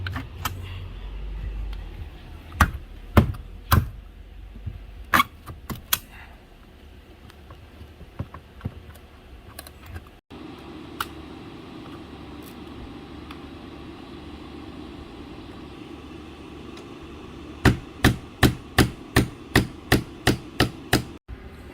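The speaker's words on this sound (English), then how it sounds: "now he's got to take out all of these nails that are holding the window in" Nails being pried out of a wooden window frame during a cottage bedroom window replacement, heard as sharp isolated cracks and knocks, with a rapid burst of repeated strikes near the end and no talking.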